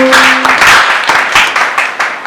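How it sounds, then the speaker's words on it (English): Audience claps at a Nigerian church award ceremony, uneven bursts of hand claps rising and falling through the crowd. A brief tone sounds at the start and there are no clear voices. "A round of applause for them."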